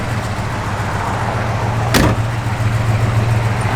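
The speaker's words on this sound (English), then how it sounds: "blower motor works" The blower motor of a 1967 Chevrolet Chevelle SS runs as a steady, close fan hum under the idling car's low drone, with one sharp click partway through.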